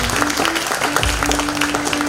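An audience claps loudly and continuously at the close of an outdoor road theatre performance, a dense burst of applause while a voice speaks over it.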